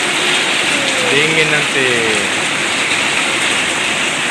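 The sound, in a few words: heavy rain during a ride home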